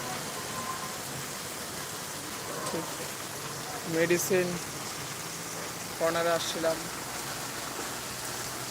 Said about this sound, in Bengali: এমন সময় ঝড়ো বৃষ্টির মাঝখানে আটকে গেছি আস্তে আস্তে কমতেছে বৃষ্টি